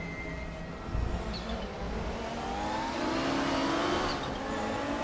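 Classic GTO race cars lapping at Aragón in a racing video game, engines droning and revving continuously at close range with a rising pass near the end, no talk.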